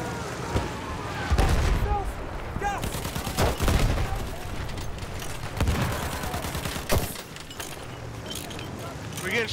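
Battlefield 1 Conquest battle on the Volga River, with repeated bursts of gunfire and thudding shots scattered through a noisy battlefield, some near and loud, others distant, while a player talks over it.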